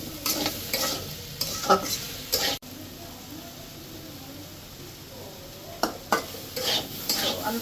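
Boal fish head sautéing in a pan with turmeric and chili, a soft continuous sizzle with bursts of spatula scraping and stirring at the start and end, a quieter stretch in between, no talking.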